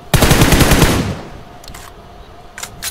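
A rapid burst of automatic gunfire rings out in a mobile battle-royale shooter game played on an iPhone 12, loud and close for about a second, then fading into quieter ambience with a couple of faint distant shots.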